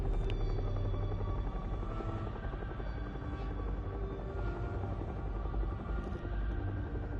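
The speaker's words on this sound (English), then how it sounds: "There's helicopters over there." Helicopters in the video game Hell is Us hover nearby, a loud steady rotor drone and thrum filling the whole stretch without letup.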